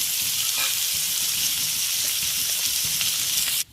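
Chopped medium tomatoes sizzle steadily in a hot oiled pan while being sautéed for a sweet potato masala, a continuous close frying hiss with light stirring scrapes, cutting off abruptly at the end.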